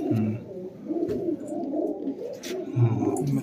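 Pigeons, kept as a hobby, coo in soft repeated low calls, fairly close, with faint rustling and background noise.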